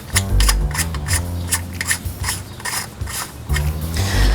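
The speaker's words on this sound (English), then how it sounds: "first I'm going to screw this into the pump" A plastic fitting being screwed into a fountain pump, giving close, repeated ratcheting clicks and rubbing thread scrapes in an uneven rhythm, heard alone.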